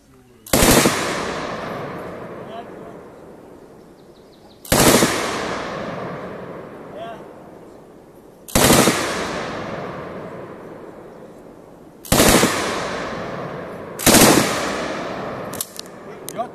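An MG-3 machine gun fired at a grenadier firing station: five sharp, loud single reports spaced a few seconds apart, each followed by a long ringing decay, with a faint click near the end.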